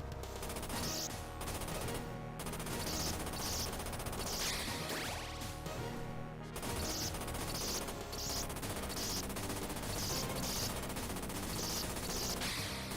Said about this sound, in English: Finally, I have a machine gun going into this level.